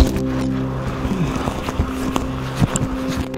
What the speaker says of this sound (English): somebody's out driving